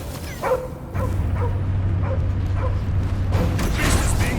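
Cosmo the dog in the video game Guardians of the Galaxy gives a series of about five evenly spaced barks, heard over a steady mechanical hum and busy game noise.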